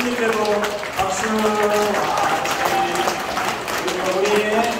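A church congregation applauds in steady, dense clapping that fills the room, with a voice carrying over the top throughout.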